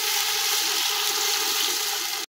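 Water mixed with Bombay biryani masala pours into a cooking pot in a steady, hissing splash that runs for about two seconds and then stops abruptly.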